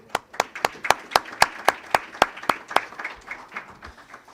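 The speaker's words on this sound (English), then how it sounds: "A round of applause." Audience claps for the mayor at a small business symposium, about a dozen distinct, evenly spaced claps close by that thin out and fade toward the end.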